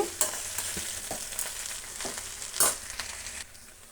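Greens and moong dal being stirred as they fry in oil for a dantu soppu palya, a steady sizzle broken by repeated scraping strokes of a spoon against the pan, close and moderately loud with no voices.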